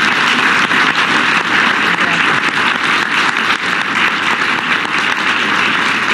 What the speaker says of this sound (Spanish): La verdad que es un aplauso muy generoso por parte de ustedes